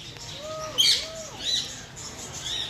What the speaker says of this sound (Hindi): एलेक्सेंड्रियन पैरट्स बोलते हैं